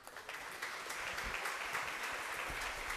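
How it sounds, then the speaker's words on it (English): A crowd at a veterans resource fair held at Brookfield Zoo applauds its vendors, a steady, fairly distant rush of clapping with no talk over it. "Can we give a round of applause for our vendors?"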